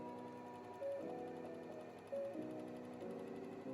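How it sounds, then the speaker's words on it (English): An overlocker serges the sides of a dress placket in a few short, even bursts of rapid mechanical whirring separated by brief pauses, quiet and close. "I also went ahead and overlocked the sides of the plackets."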